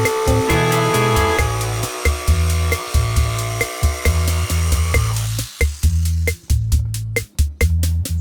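A power saw cuts along a marked line through 18mm multiplex plywood: a loud, steady buzzing cut with a fast rhythmic pulsing that runs the whole time. No one speaks.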